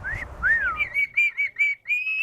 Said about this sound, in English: she would wolf whistle at you